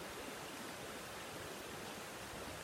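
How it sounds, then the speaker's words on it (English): A flowing brook gives a soft, continuous broadband rush of running water, quiet and even throughout, with no voices. "And the brook."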